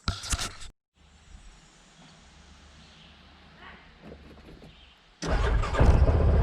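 Yamaha Rhino UTV engine cranks and catches near the end, rising to a loud, close steady idle after a quieter stretch of faint outdoor background and a short burst of noise at the start.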